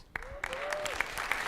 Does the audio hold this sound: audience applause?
yes